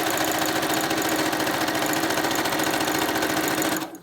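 A sewing machine runs continuously back stitching tutu fabric, a loud, even mechanical whirr with a rapid needle pulse that stops abruptly near the end.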